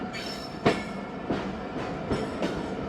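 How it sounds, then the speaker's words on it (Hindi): Tezgam Express passenger train pulling out of Khanpur Junction, a low steady rumble of rolling cars with a few distinct wheel clunks over rail joints at irregular intervals, moderately distant. "5 मिनट स्टॉप के बाद ट्रेन रवाना हुई है दोस्तों खानपुर जंक्शन से।"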